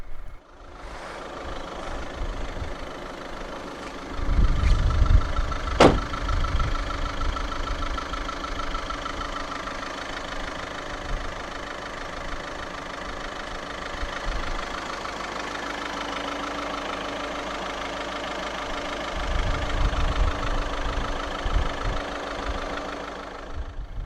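A 2014 Audi A1 Sportback 1.6 TDI diesel engine idles steadily with a low, even rumble, swelling slightly louder at moments, with no talking.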